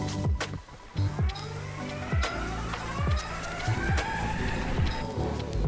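An Ownboard Carbon AT electric skateboard rolls along, its hub motors giving a steady whine that climbs and falls in pitch, with rumbling wheel noise and several sharp thumps over bumps, close and fairly loud, with no talking.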